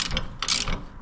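A regular hand ratchet working corroded, thread-locked bolts loose on a Harley-Davidson touring bike floorboard, giving quick close metallic clicking bursts that come and go over about a second, with no talk.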